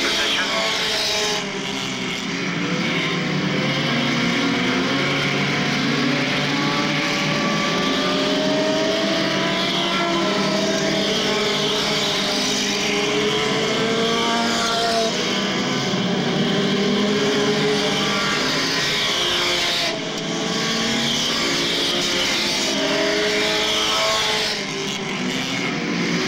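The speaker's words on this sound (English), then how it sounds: "Mark Reese in control of the Scramble Car feature event" Scramble race cars roar around a speedway oval, a dense, continuous engine drone with revving pitch shifts as cars pass, heard under steady announcer commentary throughout.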